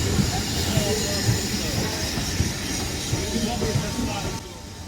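Heritage steam train on the Keighley and Worth Valley Railway near Haworth, a continuous rumble of carriages and wheels with hiss and occasional squeals, heard close up, with faint voices underneath and the noise fading slightly near the end.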